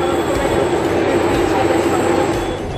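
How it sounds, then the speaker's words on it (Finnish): A train rolls past in Vienna, a steady, loud, dense rumble of railcars with continuous wheel and rail noise throughout, close by and without pause. "Juna."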